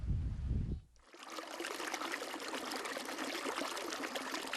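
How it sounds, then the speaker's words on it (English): Clear water trickles from between rocks at a desert oasis in Mongolia, splashing steadily close by, a bright continuous babble after a brief muffled moment at the start. "Clear water is flowing from between the rocks."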